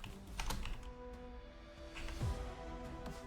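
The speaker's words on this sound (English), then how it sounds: "let me just type it down here" Fingers type steadily on a computer keyboard, producing quiet, close clicks in short irregular bursts against a low, faint background hum.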